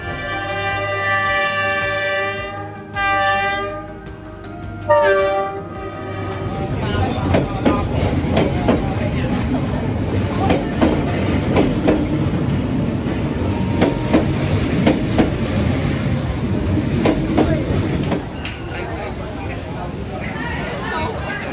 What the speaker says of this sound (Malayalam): ട്രെയിൻ പോയി കേട്ടോ.